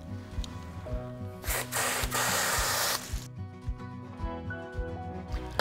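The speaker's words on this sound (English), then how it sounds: "I'm just going to give it one little quick spray with the hose" A brief burst of hose spray hisses for about a second on a Maelstrom filter amid a rhythmic mechanical thumping that runs throughout.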